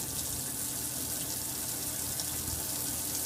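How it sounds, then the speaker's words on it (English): Water pours steadily into the tank of a floor cleaning machine, a constant close hiss and gurgle of filling with no voices. "And we already have some water in there. I'll just add a little bit more."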